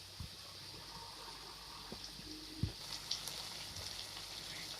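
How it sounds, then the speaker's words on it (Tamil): Paneer fries in a pan over a medium flame, a faint, steady sizzle with a few soft clicks and taps of the pan throughout. "இப்போ இந்த மாதிரி போட்டு மீடியம் ஃப்ளேமில் ஒரு 5 மினிட்ஸ் ஃப்ரை ஆகட்டும்."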